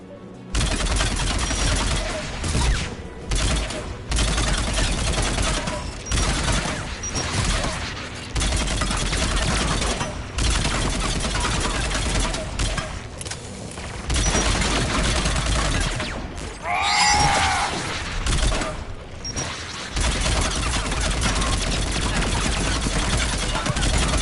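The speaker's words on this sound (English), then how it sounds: "The Geth anti-aircraft guns are up ahead." Geth anti-aircraft guns in Mass Effect Legendary unleash sustained, loud rapid-fire bursts, cannon blasts layering into a dense barrage with brief gaps.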